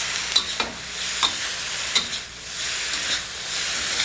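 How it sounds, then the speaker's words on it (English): Carrots and bean shoots stir-fried briskly in a very hot pan: a steady loud sizzle with repeated scraping strokes of the utensil every half second or so. "Now we have to briskly stir fry these vegetables"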